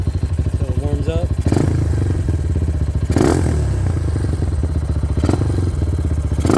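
Honda XR150L motorcycle fitted with a 300cc kit engine, running at a steady idle with a rough, pulsing throb and a few brief revs, close by, with a voice speaking briefly over it.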